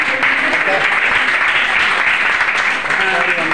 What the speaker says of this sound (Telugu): క్లాప్స్ తెలిసిపోతుంది వనజ ఎక్కడ